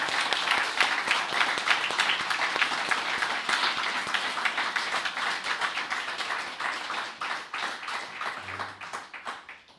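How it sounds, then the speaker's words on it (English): An audience at an anniversary competition awards ceremony applauds with dense, close clapping that gradually thins and fades toward the end. "Let's give all of those a round of applause"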